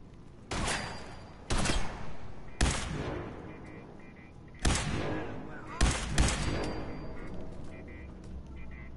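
Gunfire in Fallout 4 inside the Corvega Assembly Plant, with about six sharp shots or short bursts spaced irregularly and some echo between them.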